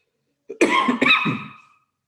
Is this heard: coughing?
yes